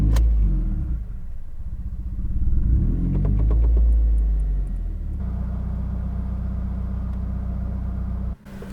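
A car fitted with a Tomei Expreme Ti exhaust and catted Grimmspeed J pipe starts with a loud burst, surges, then settles into a steady deep idle rumble that briefly cuts out and resumes near the end.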